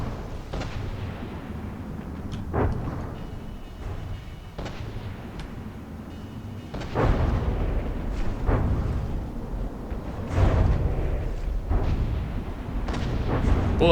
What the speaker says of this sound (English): I think that was a nice detonation over on the shrimp side.